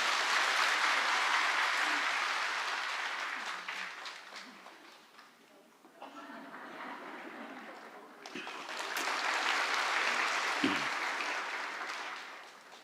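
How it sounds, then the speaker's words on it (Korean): A church congregation claps to bless a child during a Sunday worship service, with a broad wash of many hands that swells, fades to a lull midway, then rises again before tapering off. "우리 박수로 이 아이를 축복합니다."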